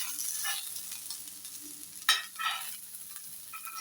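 Fish fries in a pan with a soft, continuous sizzle and crackle, plus one brief louder stir or spatter midway, quiet and close with no talking.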